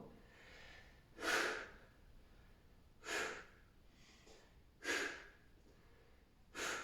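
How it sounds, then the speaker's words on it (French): Four strong, evenly spaced breaths roughly every 1.8 seconds, each a short forceful exhale like a snort, taken during a half-bridge back and glute exercise in a home workout, close and fairly faint against a quiet room. "Inspirez en descendant,"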